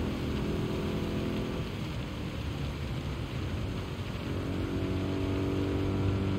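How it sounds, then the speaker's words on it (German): Steady, dense rain pattering on a car roof in the racing game Gran Turismo 7, a continuous close hiss and rumble without pauses or voices. "das Prasseln des Regens auf dem Autodach"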